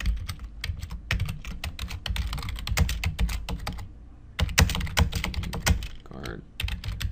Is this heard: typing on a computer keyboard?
yes